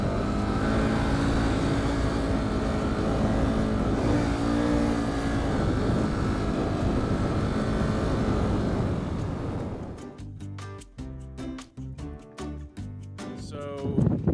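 Adventure motorcycles, including a BMW F800, rev hard with traction control off as they climb sand dunes, a loud, sustained engine roar that drops away into scattered bursts of revving and gear changes near the end.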